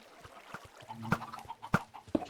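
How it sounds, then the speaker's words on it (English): Minecraft chickens cluck faintly in short, scattered bursts, with soft clicks and game sounds between them and no talking. "now this will produce us some chickens, which hopefully cannot jump out of here"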